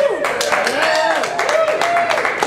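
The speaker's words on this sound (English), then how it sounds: "A huge round of applause for Roxie Moxie!" A crowd at a burlesque variety showcase applauds and cheers for performer Roxie Moxie, with steady clapping and loud whoops filling the room.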